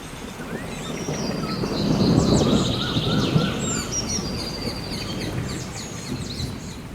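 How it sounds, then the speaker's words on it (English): Dense rainforest chorus of birds chirping and calling high overhead, with a low rumbling wash underneath; no clear monkey screeches stand out. "I would join in with the screeching hullabaloo of the birds and monkeys"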